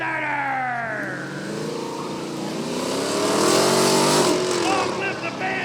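A Dodge Magnum and a Pontiac Trans Am drag race at a speedway, their engines roaring loudly and revving as they accelerate side by side, with rising and falling pitch under an excited announcer's commentary.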